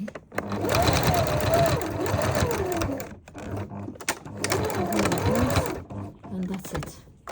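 A sewing machine runs in two bursts while stitching an invisible zipper, a steady close mechanical whir that pauses briefly near the middle before starting up again.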